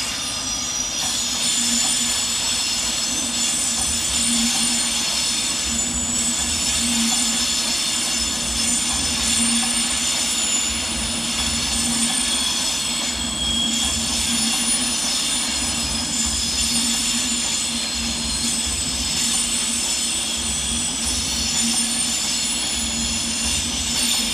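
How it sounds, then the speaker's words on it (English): An Avanti West Coast class 390 train pulls out of London Euston, a steady loud rumble of the departing train with rhythmic wheel clatter and occasional squealing across the station. "Up next to depart on the far side is 390-129 with the 14:43 Avanti West Coast service to Liverpool Lime Street."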